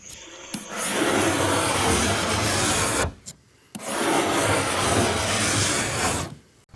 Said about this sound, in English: now we'll scrape all this off